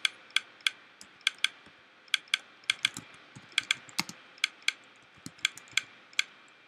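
Typing on a computer keyboard: a run of sharp, close key clicks in uneven bursts, some quick clusters and brief pauses, with no talking.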